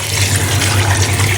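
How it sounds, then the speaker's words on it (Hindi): Four glasses of water poured into a pot of rice with fried potatoes and peas, a steady close splashing fill with a low hum beneath, no voices. "अभी इसमें ऐड करूँगी 2 गिलास मैंने चावल लिए हैं और 4 गिलास पानी ऐड कर रही हूँ।"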